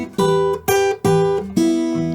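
Fingerpicked acoustic guitar improvising a train-whistle lick: four plucked chords ring out in steady succession, each sustaining bright harmonics before the next attack, played alone.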